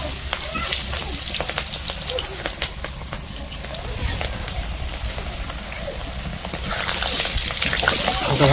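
Peeled, washed potatoes fry in hot oil in a kadai over a village kitchen fire, a steady close sizzle with crackling that swells louder near the end, with some talk over it.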